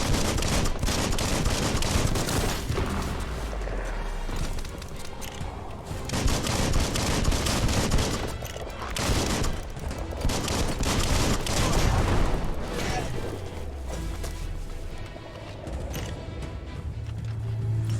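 Gunslinger gun fire in Biomutant, repeated shots and bursts across a busy combat mix, loud and close, with explosive thuds and sustained action noise throughout.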